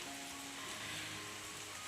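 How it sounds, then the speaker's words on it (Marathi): A steady, even hiss of rain falls continuously, soft and diffuse, with no voices. "आता हा जरा जोरात यायला सुरुवात झालेली आहे"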